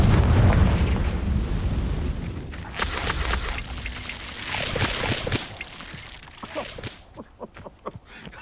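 A Confringo spell explodes in the Hogwarts Legacy game, with a rumbling blast followed by a series of bursts and crackles that fade toward the end.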